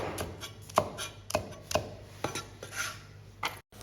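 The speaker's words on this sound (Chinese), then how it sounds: "青红线椒各2颗去蒂，斜刀切成像这种的段儿" A knife chops green and red thin chilies on a cutting board, about ten sharp, irregular knocks at close range over a faint background hum.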